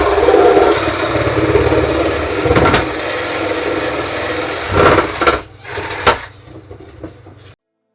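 Old Sawzall reciprocating saw cutting through a block of foam, a rough rasping buzz that runs steadily, then falters into a few short bursts and stops abruptly near the end.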